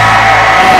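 An open stage show crowd yells and whoops loudly in a brief, sustained roar lasting under a second, dense and close with high shouts riding over the mass of voices.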